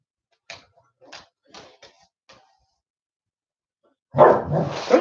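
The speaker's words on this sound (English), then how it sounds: "Don't you bark at me." A dog barks several times in short, sharp, isolated bursts, then a louder, noisier burst follows near the end; close and clear against silence, during a live kids' program.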